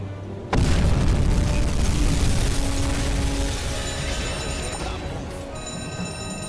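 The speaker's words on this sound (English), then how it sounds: "That is a beautiful hit, and you can already see the uh, rear of the ship starting to lift a little bit out of the water." A torpedo strikes a ship in the submarine game UBOAT: a sudden heavy explosion boom after a brief quiet, followed by a sustained loud rumbling roar and creaking, metallic rattles as it slowly fades.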